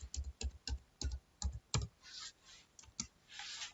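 Keys clatter on a computer keyboard as a single word is typed, a quick run of close, crisp clicks in a loose rhythm with short pauses, and no voice.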